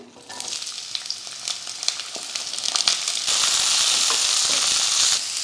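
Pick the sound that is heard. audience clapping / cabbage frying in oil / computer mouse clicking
cabbage frying in oil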